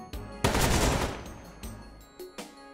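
Burst of automatic gunfire from the Metal Slug Tactics video game: a dense, loud rattle of shots lasting about a second, followed by scattered lighter game effects and impacts, no talk.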